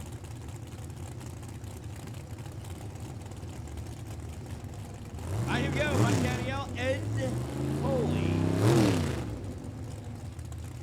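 Top sportsman drag racing cars idle and rev at an NHRA Cecil County event, a steady low engine rumble throughout that swells louder in the second half, with an announcer talking over it.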